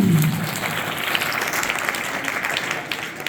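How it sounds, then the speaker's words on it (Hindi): Children at a school farewell for transferred teachers clap together in a loud burst of applause that carries on evenly, dense and roomy, with no talk over it. "बच्चे जोरदार एक बार ताली लगाएं"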